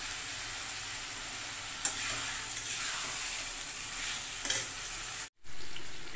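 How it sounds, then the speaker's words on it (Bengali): Mutton masala with curd stir-fries in a pan, a constant close sizzle with a few soft scraping stirs and a brief cutout near the end, no voices. "এবার বেশ করে কষাতে হবে।"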